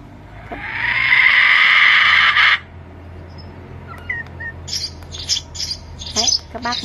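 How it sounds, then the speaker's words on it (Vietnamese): A recorded chicken call plays from a Q92/AT100 bird-trap Bluetooth speaker, a loud, steady, bright crowing burst lasting about two seconds, followed by quieter scattered clucks and squawks. "Tiếng gà."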